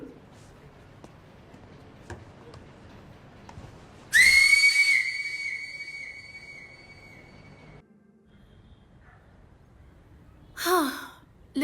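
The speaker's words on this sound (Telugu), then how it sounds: "అయితే హాఫ్ టైం విజిల్ని కొట్టేద్దాం." A referee-style whistle gives one loud sustained blast of about four seconds, dropping slightly in pitch at the start, followed by a short sharp second burst near the end, over a low background murmur.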